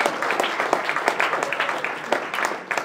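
Scattered audience clapping at an IGDA Toronto game developer meetup, a brief burst of indoor applause from a small crowd with no talking over it.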